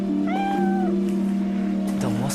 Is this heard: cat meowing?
yes